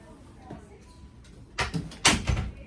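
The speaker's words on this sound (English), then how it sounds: "She opened that door." A hospital room door opens with a few close knocks and clunks, then louder handle and latch rattles near the end, amid low room noise.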